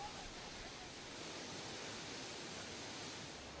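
Steady broadband rush of a waterfall in a water-rich area of Shaoguan, Guangdong, near Lechang, a continuous even roar filling the whole moment with no voices over it.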